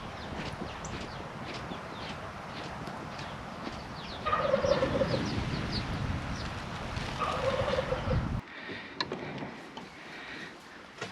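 Turkeys gobble repeatedly in bursts over a busy farmyard background, the calls close and loud, then the noise drops abruptly near the end.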